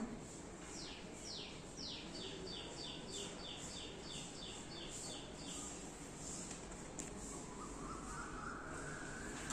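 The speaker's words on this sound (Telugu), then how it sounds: "పక్షులు చప్పుళ్ళు చూసారా ఎంత బాగా వినపడుతున్నాయో" Crows cawing repeatedly in a quick series, with other birds chirping faintly over a steady outdoor hum.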